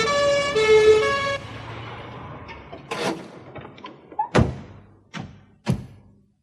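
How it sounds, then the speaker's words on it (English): An ambulance siren wails with a rising and falling tone at the start, then fades out, followed by several heavy thumps and knocks. "A siren sounded in the distance."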